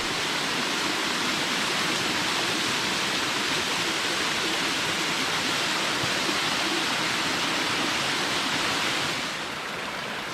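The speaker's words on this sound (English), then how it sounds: "There's some great little cascades." Small water cascades tumble along a mountain trail with icy surroundings, a steady close-up rush of splashing water that holds constant and eases slightly near the end.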